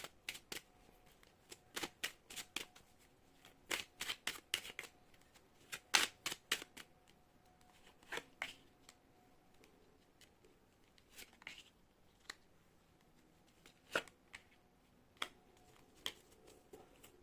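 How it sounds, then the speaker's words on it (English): Quiet, close tarot deck being shuffled and cards pulled, giving irregular crisp riffles and soft snaps of card on card, sometimes in quick clusters, with near silence between them. "I'm now going to pull a few more cards to see what is going on there in the terms of advice"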